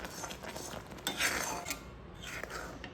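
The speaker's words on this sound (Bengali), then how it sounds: "সব কিছু খুব ভালোভাবে মিশিয়ে নিয়ে আর কিছুক্ষণের জন্য আমের আচারটাকে জাল নিয়ে নেব" Metal spoon scraping and clinking around a pan as raw mango pickle is stirred over the stove, close and steady with scratchy strokes and a louder clatter midway, no voices.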